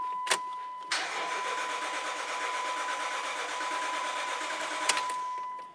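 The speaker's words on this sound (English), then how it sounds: "we're going to get inside the passenger compartment and attempt to start the vehicle" A 2005-2010 Dodge Dakota engine, cranked after its fuel pressure was released: a short click, then the motor catches and runs at a steady, loud, even drone for about four seconds before dying away. No talking.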